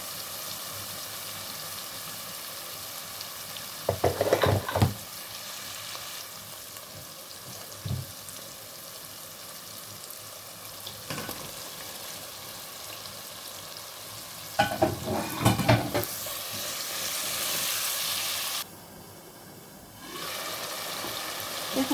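Fish frying in a pan gives a steady loud sizzle throughout, broken by a few bursts of scraping and clattering as it is stirred, with a short run of water noise near the end.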